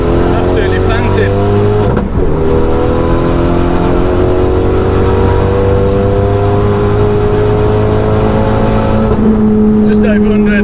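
A 305 bhp RenaultSport Megane 250 Cup accelerates hard on a track with a CAE shifter, its engine note climbing steadily and loud in the cabin, broken by a quick gear change, with someone talking at the start and end.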